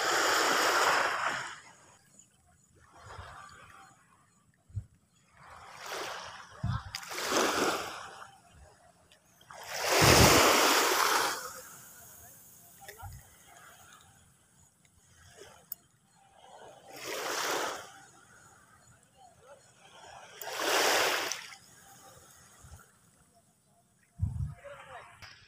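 Water surges and splashes in loud, separate rushes where a river joins the sea, each wave swelling and fading with quieter gaps between, along with a few sharp knocks and some voices in the background.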